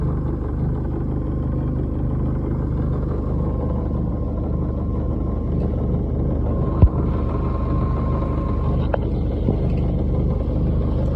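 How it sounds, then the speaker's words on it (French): A boat motor drones steadily at full throttle, a constant low rumble throughout with a single sharp knock partway through and no speech. "moteur à fond, retour au port"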